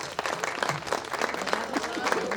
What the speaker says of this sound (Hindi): अगर ट्रैक मेरा सही चल रहा हो तो एक बार तालियों से आदेशित करें